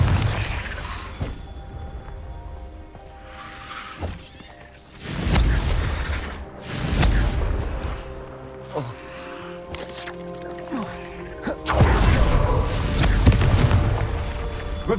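Confringo blasting spells from the Hogwarts Legacy game go off in several loud booming bursts spaced a few seconds apart, mixed with whooshing magic effects and game sounds.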